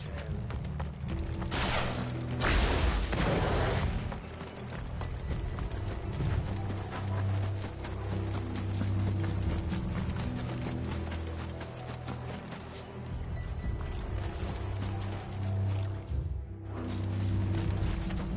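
Horses run with a fast, continuous clip-clop of hooves, close and loud, mixed with rattling harness or carriage noise and a possible whinny, with no talking.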